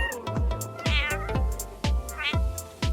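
A cat meows repeatedly and loudly up close, several rising and falling cries in quick succession.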